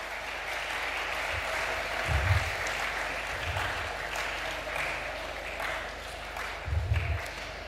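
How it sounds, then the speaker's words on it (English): An audience at a college commerce department conference session claps continuously in a steady wash of applause, with a few low bumps and thuds scattered through it, heard from within the hall. "I kindly request you all to put your hands together for a big round of applause"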